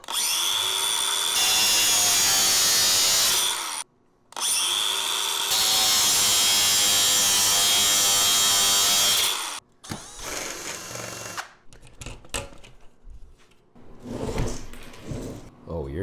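A power drill or driver backs screws out of a 2000 watt power station battery bank, two long loud whirring runs broken by a short pause, then lighter clicks, handling noise and talking.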